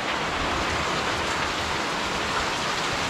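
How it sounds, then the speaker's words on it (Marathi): Heavy first monsoon rain pours steadily over a village plot in Naringre, Devgad, a dense, even hiss of drops on surfaces lasting throughout with no pauses or voices. "हो बघा इलो पाऊस"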